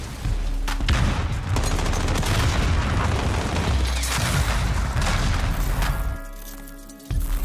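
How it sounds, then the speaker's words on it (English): A grenade blast and sustained gunfire from a competitive Call of Duty League match fill the whole stretch, with dense bursts of shots and booms continuing loudly before fading slightly near the end. "they'll run right into the explosion"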